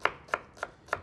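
A knife chops an onion into small pieces on a board, with four crisp, evenly spaced cuts at a steady rhythm, close and clear with no talking.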